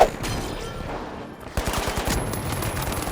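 Gunfire in a shooter video game, with loud, close bursts of rapid automatic shots cut by a brief lull before the firing resumes.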